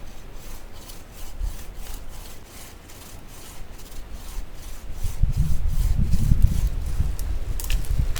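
A hand saw cuts through a wooden pole outdoors at a bushcraft lean-to camp, with steady back-and-forth rasping strokes up close that grow heavier and rougher toward the end.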